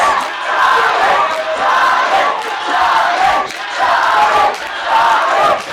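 A carnival wrestling-show crowd roars and chants against the wrestler Craven, loud waves of massed voices swelling and dipping in a repeating rhythm.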